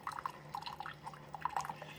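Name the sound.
Keurig K-Express running fresh rinse water through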